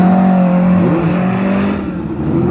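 A 1971 Alpine A110 with a Gordini R8 engine and five-speed gearbox runs at a historic hillclimb, its engine note loud and close, with the pitch rising as it accelerates before fading slightly.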